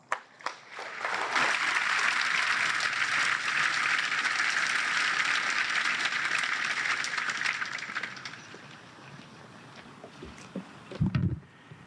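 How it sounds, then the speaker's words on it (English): An audience at a military ceremony for the redesignation of Fort Hood to Fort Cavazos breaks into sustained applause that rises after a second, holds steady for about seven seconds, then fades, with a few thumps and a voice near the end. "please join me in a warm round of applause for Lieutenant General retired House."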